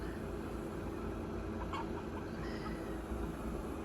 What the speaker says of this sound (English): That's that little rooster.